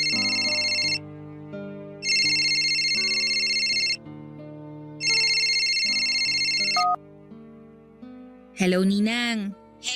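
Mobile phone ringtone for an incoming call, a bright electronic melody repeating in phrases with short pauses, loud and close, followed briefly by a voice at the end.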